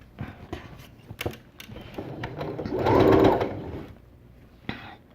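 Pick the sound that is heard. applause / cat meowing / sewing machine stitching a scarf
sewing machine stitching a scarf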